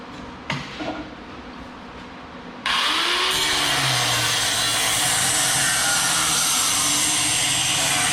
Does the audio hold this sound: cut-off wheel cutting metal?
yes